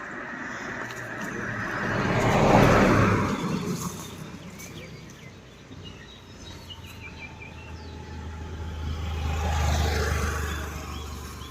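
A car being driven along a park road, its engine and tyre noise swelling up twice as it comes close and fading in between, with faint birds and insects in the background.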